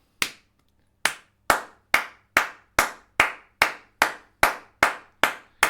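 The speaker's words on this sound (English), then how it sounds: "your hand is slightly curved like that to create a hollow, and you're using the fingers up to the 3rd joint to clap" Hard flamenco palmas struck with curved, hollowed hands, fingers meeting the palm up to the third joint: about a dozen loud, sharp single claps in an even rhythm, close and dry with brief decays and nothing else around them.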